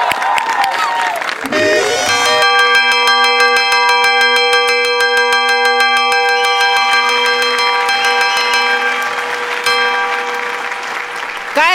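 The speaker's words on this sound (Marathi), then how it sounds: "काय घंटा वाजाडतो रे?" A bell rung over and over on a Marathi comedy stage, its bright ringing tone sustained loud and continuous for several seconds, with audience applause and crowd noise around it.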